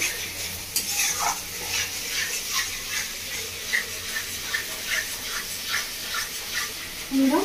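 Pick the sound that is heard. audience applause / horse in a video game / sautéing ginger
sautéing ginger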